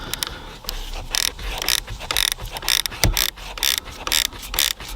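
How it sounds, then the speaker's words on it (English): A Cornwell ratchet wrench clicks in rapid bursts while turning a 10mm bolt during a battery install on a 2014-or-later Ford Edge, loud and close, with short pauses between strokes and no talk. "I've had this set of Cornwell ratchet wrenches for nearly 20 years."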